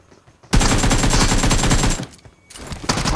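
Rapid, loud automatic gunfire in the mobile battle-royale game BGMI (PUBG Mobile), a dense sustained burst followed by a short pause and another burst.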